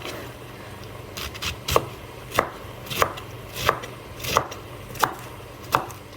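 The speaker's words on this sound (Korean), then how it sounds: "양배추는 좀 잘게 썰어주는 게 맛있다" Steady knife chops through cabbage on a cutting board, about seven evenly spaced crisp strikes, close and fairly quiet, with no one talking.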